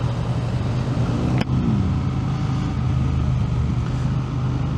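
Triumph Speed Twin 1200 RS motorcycle on a ride around 3,000 RPM, a steady low engine drone with heavy wind rush throughout and one sharp click partway through, no talking.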